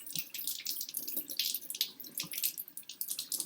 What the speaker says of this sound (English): So now I'm going to turn on the water